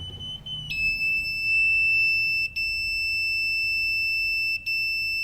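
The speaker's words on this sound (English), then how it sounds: "I will show you how buzzer works" A steady high-pitched Arduino-driven electronic buzzer tone sounds continuously, briefly cutting out twice for a split second, over faint low background hum.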